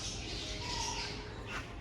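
A parrot squawks amid steady background noise, brief harsh calls rising over a constant indoor hum, moderately close, in an animal room with rabbits, guinea pigs and chinchillas.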